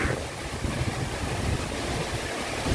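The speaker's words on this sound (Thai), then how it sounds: "ลมอะไรจะแรงเช่นนี้ครับ" Strong wind blows hard and constantly, roaring and buffeting with a broad, rough, noisy rush and no pauses, heard near and loud with no voices.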